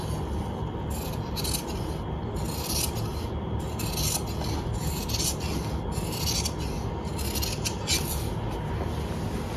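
Scissors cutting fabric for a gents' kurta, a steady raspy shearing texture with repeated snips recurring throughout, close and fairly loud, with no talking.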